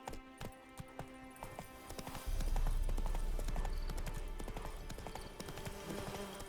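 Roach the horse gallops in The Witcher 3 with a rapid, steady clatter of hooves that starts sparse and then builds into a louder run over a low rumbling game soundscape.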